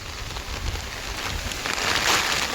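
A heavy, dangerous rainstorm pours down in a loud, unbroken hiss, swelling slightly toward the end, with no voices.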